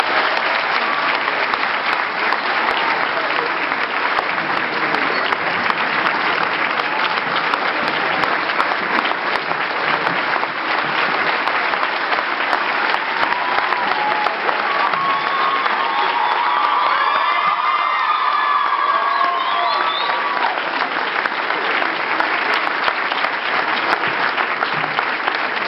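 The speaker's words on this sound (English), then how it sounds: "Another round of applause." Sustained audience applause and cheering from a crowd at a Rhodes University gathering after a speech, steady and dense throughout, with scattered whoops and shouts rising above the clapping.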